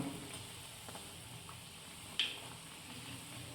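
Kerala-style urad dal vadas fry in hot oil while being stirred, a faint, steady background sizzle with one sharp utensil tap partway through, no talking.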